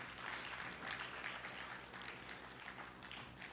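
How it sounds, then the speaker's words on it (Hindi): Applause from a conclave audience after a set of songs, a dense, steady wash of clapping that holds at an even level throughout, fairly distant, with no voices standing out. "इनके गानों, तीनों गानों के लिए तो तालियां होनी ही चाहिए।"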